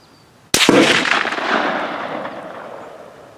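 A single loud, sharp rifle shot from a Lencac Archangel M1A at an outdoor shooting range, cracking suddenly and then rolling away in a long, fading echo.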